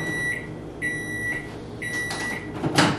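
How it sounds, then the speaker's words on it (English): A microwave oven heating food gives a steady hum with a high tone, then clicks and clatters near the end, close and fairly loud with no talking. "put it in the microwave for another 30 seconds"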